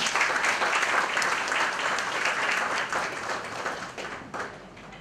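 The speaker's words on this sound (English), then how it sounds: "give a round of applause." Dense, steady applause from an audience at an art and design talk, filling the room with overlapping claps that gradually taper off toward the end; no one speaks over it.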